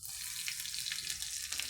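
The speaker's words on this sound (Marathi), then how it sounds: "बघा आता मी फोडणी देते. बघा मस्त तेल टाकलं आहे आपलं. कढीपत्ता मोहरी टाकली, जिरं टाकलं आहे" Mustard seeds, cumin, curry leaves and green chillies sizzle and crackle steadily in hot oil for a Maharashtrian pithla tempering, a dense continuous frying hiss heard up close with no talk.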